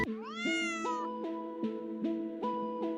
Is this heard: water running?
no